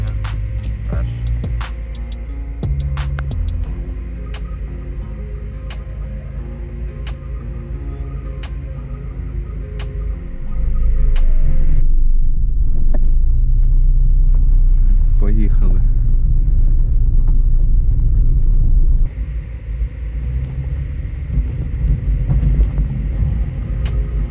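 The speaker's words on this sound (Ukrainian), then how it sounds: "Спробуємо завестись." A Geely CK2 car engine cranks and starts, then settles into a steady idle hum, close and loud, with a louder stretch midway as it catches.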